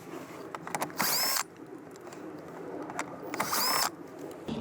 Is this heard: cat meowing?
no